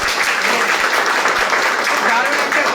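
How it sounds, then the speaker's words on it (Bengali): Applause from a crowd at a Bengali football fan club event, a steady broadband wash of many hands clapping that is sustained and fairly loud for the whole stretch. "একদম একটা হাততালি হোক।"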